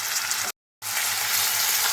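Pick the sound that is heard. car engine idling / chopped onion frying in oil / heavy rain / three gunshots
chopped onion frying in oil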